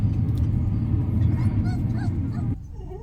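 Small stray dogs whimper and yip close by over a low rumble while they are fed table scraps at a canteen, and the background noise drops away near the end.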